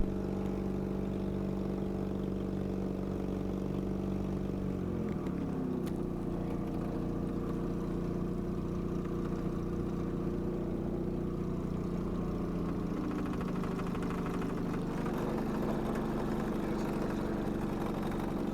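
An Ultracruiser ultralight aircraft's engine drones steadily and close up as it goes to full throttle for takeoff on runway 15 at Hendersonville, NC, with the pitch shifting partway through and rising again near the end.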